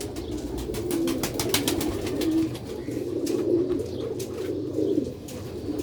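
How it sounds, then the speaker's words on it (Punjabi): Sialkoti black-faced pigeons coo in a steady, repeated rhythm, several birds overlapping close by with soft murmuring throughout and no talk. "ਕਾਲੇ ਮੂੰਹ ਵਾਲਾ ਕਬੂਤਰ"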